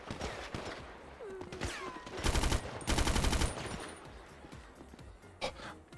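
Gunfire in GTA 5 roleplay, with scattered single shots building to loud, rapid automatic bursts in the middle, then trailing off into a few more isolated shots.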